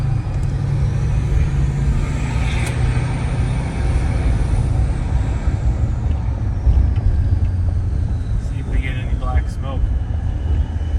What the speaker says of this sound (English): You can hear that turbo just whistling.